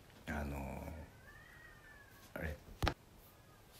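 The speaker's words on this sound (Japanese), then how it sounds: "めっちゃ外で猫が鳴いてるわ、" Cats meowing and fighting outdoors: one drawn-out, wavering yowl followed by a couple of shorter, sharper cries, heard at a moderate distance beneath a quiet room.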